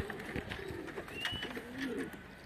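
A caught stray racing pigeon with a ringed leg coos softly at close range, a few low warbling calls over quiet background.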